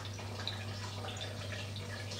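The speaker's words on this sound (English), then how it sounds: "And now there is water now, cold water, coming through the condenser." Cold water trickles and drips faintly through a Liebig condenser in a school chemistry lab, quiet and steady over a low, constant hum.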